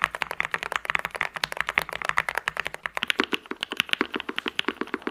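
Rapid typing on an expensive $240 mechanical computer keyboard, a dense, steady run of crisp clacky keystrokes that sounds close and loud with no talking.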